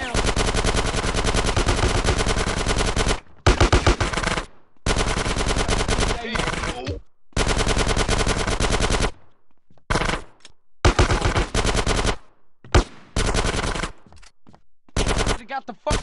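Gunfire in GTA San Andreas comes in long, dense bursts of rapid automatic shots, loud and close, broken by short pauses and single cracks near the end.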